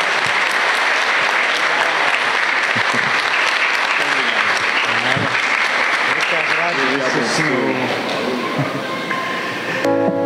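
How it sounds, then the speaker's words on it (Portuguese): Sustained applause from a church congregation for a priest at a novena night honoring Saint Sebastian, steady clapping fading slightly toward the end, with voices beneath. "Uma salva de palmas para o padre."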